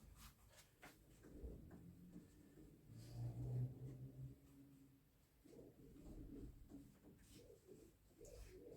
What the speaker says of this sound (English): the pigeons are sitting on my balcony. They're expecting food, so they make sound